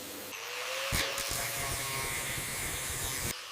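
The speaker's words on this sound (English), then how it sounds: "This industrial vac really does the job on this thick grease and metal shavings." An industrial vacuum sucks up thick grease and metal shavings, a close steady buzzing drone with a pitch that rises as it loads, broken by a few sharp rattling bursts of debris and cutting off near the end.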